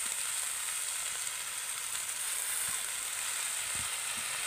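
Soy sauce, vinegar and other sauces added to a hot frying pan give a constant, even sizzling hiss throughout, with a few faint stirring taps beneath.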